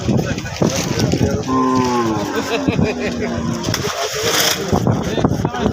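Cattle at a crowded open-air cattle market in Diabari give one long, drawn-out moo at close range, surrounded by market chatter and background bustle.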